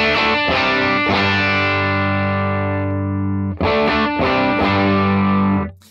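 An electric guitar runs through a Morgan AC-20 amp model on an FM3 and strums loud, overdriven chords, with several chord hits that ring out and sustain before fading.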